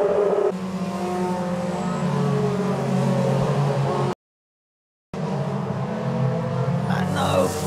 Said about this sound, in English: The battle between Guio and Nogues on the track and for the championship is getting a bit tasty.